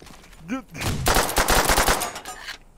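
Rapid pistol fire rattles loudly in World at War gameplay, a burst of close shots crowding together after a brief vocal shout at the start.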